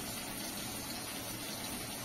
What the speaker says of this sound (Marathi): आता हे सगळं आता पाणी घालून मिक्स करणार आहे.